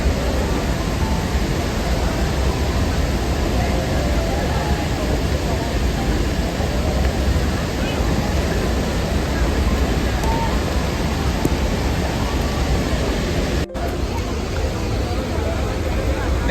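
Athirappilly waterfall roaring steadily as a dense, unbroken broadband rush, loud and close, with a voice talking faintly beneath it.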